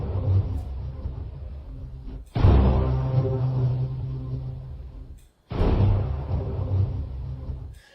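A Google AI synthesizer blends a bass tone with a thunder sound into two deep, rumbling swells. Each swell starts abruptly and then slowly fades.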